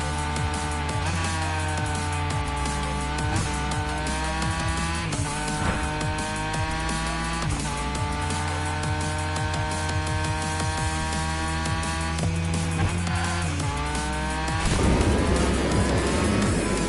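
Race cars in the Hot Wheels Unleashed video game drive a lap, with loud, continuous engine whine that rises and falls in repeated pitch sweeps, ending in a rougher burst of racing noise.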